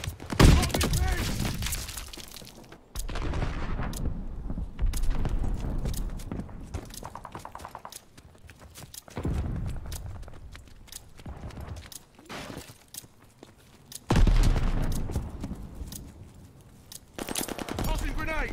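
Wartime shooter game combat with a grenade thrown: bursts of rapid gunfire and sharp shots come in loud clusters separated by quieter gaps, with a voice calling out between the volleys.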